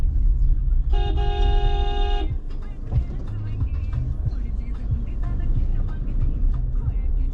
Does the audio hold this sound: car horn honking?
yes